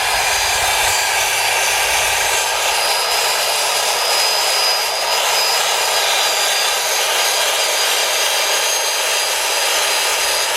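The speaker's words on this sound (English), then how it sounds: "It's a wire brush on a variable speed power drill." A steady, high-pitched grinding whine of a wire brush spinning on a variable speed power drill on a horse trailer, loud and continuous with no talking.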